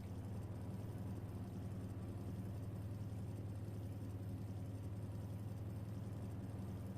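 An old Ford pickup truck engine idles in a video game, a steady low rumble with a constant hum that holds evenly throughout, quiet and alone with no talk.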